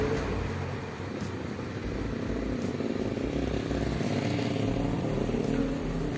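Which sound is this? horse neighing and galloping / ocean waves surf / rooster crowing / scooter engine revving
scooter engine revving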